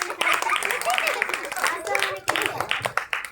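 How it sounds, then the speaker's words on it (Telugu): An audience at a church VBS celebration claps together in a loud, dense burst of applause, with voices talking over it. "ఒకసారి గట్టిగా క్లాప్స్"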